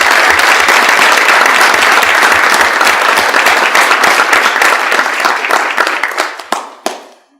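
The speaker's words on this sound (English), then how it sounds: "I'd actually like to give a rounding applause as well to the teachers for bringing the program in" Loud, dense applause from an audience at a school board meeting, honouring teachers. It sounds as a full, even roar of many hands clapping close by, then thins out and stops abruptly near the end.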